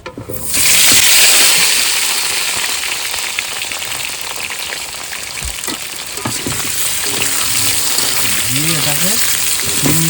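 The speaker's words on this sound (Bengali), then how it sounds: "এইবার চাপিয়ে দেবো তরকারি আলু কাঁচা লঙ্কা রসুন পেঁয়াজ টমেটা সব একসঙ্গে দিয়ে দেবো" Potatoes, green chilli, garlic, onion and tomato tossed together into a hot pan, a loud dense sizzle that flares at once and holds steady, close by, with faint background sounds near the end.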